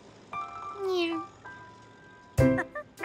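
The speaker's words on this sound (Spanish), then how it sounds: "¿Y este es su gato?" A cartoon cat gives a couple of clear meows, the first rising and then falling, followed later by another short burst of meowing cries.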